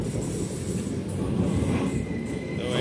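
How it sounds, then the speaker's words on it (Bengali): A Norwegian intercity train rolls into a station with a loud, close, continuous low rumble of wheels on rails and faint squeals above it. "চলে আসছে সেই আমাদের কাঙ্ক্ষিত ট্রেন"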